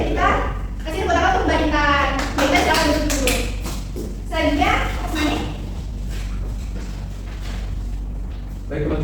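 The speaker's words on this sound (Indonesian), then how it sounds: "kita kasih tepuk tangan untuk Mbak Intan." Children in a primary school maths classroom clap together, a short burst of applause mixed with chatter and voices of kids talking throughout.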